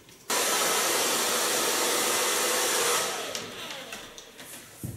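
Hair dryer blowing on a bob hairstyle, switching on abruptly to a loud, steady close-up roar that runs for about three seconds, then eases to a lower, uneven whoosh as the dryer moves.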